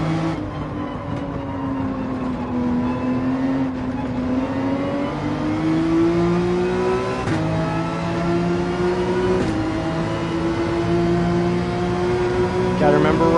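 A Porsche 911 in Gran Turismo 7 races at Maggiore, its engine revving high and climbing through the gears in repeated rising pulls, loud and continuous, with someone talking over it.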